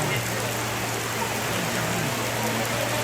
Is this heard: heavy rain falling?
yes